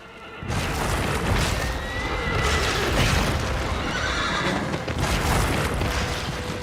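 A horse in a video game whinnies loudly over a dense rumble of hooves and movement, sustained and close throughout.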